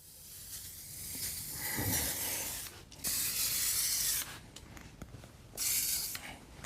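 AMSOIL MP lubricant is sprayed from an aerosol can onto a metal snow plow blade in short hissing bursts of varying length, close and clear, with rubbing sounds between them.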